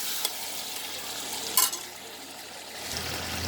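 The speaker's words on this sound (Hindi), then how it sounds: "अब इसको अच्छे से मिक्स कर लेते हैं।" Chicken with spices and mash dal being stirred in a cooking pot, giving a soft, steady sizzle with a few light scrapes and clinks of the spoon, quiet and close, with no talking.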